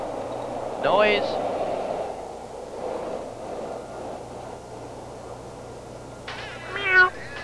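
A cat meows twice: a short call near the start and another near the end, separated by quiet background hum.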